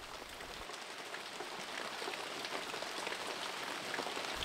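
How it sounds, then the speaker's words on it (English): Pouring rain on a Sunday evening, a dense, steady hiss of drops hitting surfaces that swells slightly louder toward the end, with no talking. "A pouring rain is a good reason not to go anywhere."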